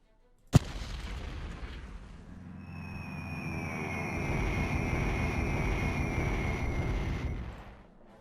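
A bombing strike in the WWII strategy game Decisive Campaigns: The Blitzkrieg from Warsaw to Paris lands with one sharp, loud blast, then swells into a long, rolling rumble with a thin whine above it before fading out, with no talk.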